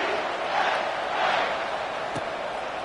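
Steady roar of a stadium crowd in a college football video game before the opening kickoff, a dense, continuous wash of cheering that swells slightly and holds at a constant level.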